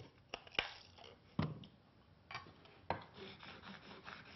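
A card scraper edge is rubbed across a diamond sharpening plate, giving faint, close, gritty scraping strokes with a few sharper scuffs in an uneven rhythm.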